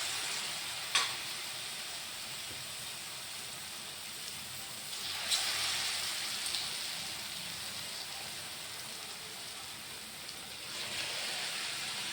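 Pieces of pazhampori chicken fry in hot oil with a steady, soft sizzling hiss, swelling at moments when food is dropped or stirred, with no talk over it.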